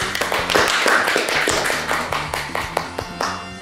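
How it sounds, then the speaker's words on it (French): A small audience applauds together in a quick, steady, close burst of clapping, the hand claps thinning slightly toward the end. "on applaudit Annie"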